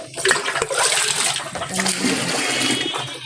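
Water gushes and splashes from a drum, a continuous rushing pour with some gurgling, close by and fairly loud, with no one talking over it.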